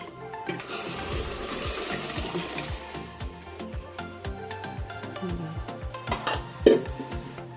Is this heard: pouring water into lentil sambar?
yes